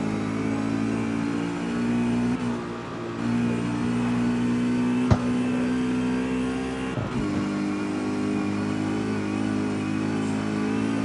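A BMW engine in the CarX Street racing game holds a steady, loud, high-speed drone at sixth gear. There is a brief gear-shift dip partway through and a constant whine layered over the engine, with no talking.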